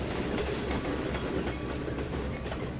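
A simulated freight train of container well cars in Trainz 2019 gives a steady, close rolling rumble with clickety-clack from the wheels, continuous and alone, with no voices.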